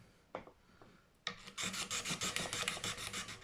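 Fast, rhythmic rasping strokes of hand polishing the frets of an Epiphone Slash Les Paul Standard guitar, after a couple of softer scrapes; close and steady, no talking.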